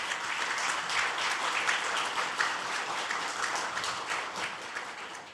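Warm applause welcomes a guest at a science and technology policy forum in the Korean National Assembly. Many hands clap in a dense, even patter at moderate distance, with no talking over it.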